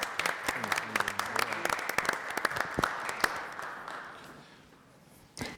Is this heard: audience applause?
yes